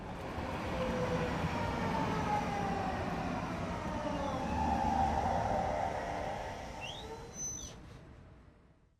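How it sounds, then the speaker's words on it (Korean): A video game subway train rumbles in with a loud, steady roar, a high squeal rising near the end as it brakes and fades out. "지하철이 공군역에 도착합니다."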